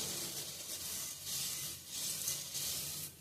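Sorghum grains popping in a hot pan while the pan is shaken under a cloth, heard as a steady hissing, rustling rattle that swells in a few gentle waves, fairly quiet and without speech.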